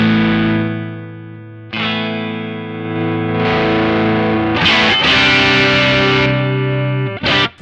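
Electric guitar driven through a Tech 21 SansAmp PSA 2.0 preamp, ringing out loud, gritty sustained chords with reverb, struck afresh every second or two and cut off abruptly at the end.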